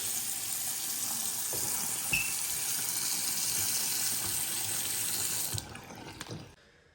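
Water runs steadily from a newly installed bathroom faucet with tall handles, a loud even gush that cuts off near the end as the tap closes.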